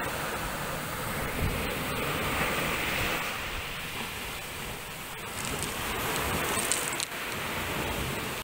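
Sea surf washes continuously onto the shore at Butas Butas Beach in Mauban, Quezon, as a broad, steady roar of rough waves, with some wind noise over the microphone and no talking.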